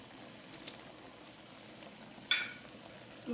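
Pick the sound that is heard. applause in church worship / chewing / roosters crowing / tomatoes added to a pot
tomatoes added to a pot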